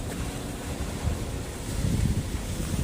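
Sea wind buffets the microphone over a low, steady rush of waves at Samila Beach in Songkhla, Thailand, with surges of gusts and surf and no voices.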